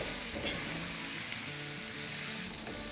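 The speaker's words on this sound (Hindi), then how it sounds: "तो बस इसे हम 2-3 मिनट तक सॉटे करेंगे।" Onion-spice paste sautéing in a pan for chicken and potato soup stew, a continuous moderate sizzle with occasional stirring scrapes and no talking.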